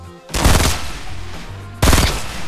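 Gunfire in the video game Fortnite, with two close, loud bursts of rapid shots separated by about a second of quieter background.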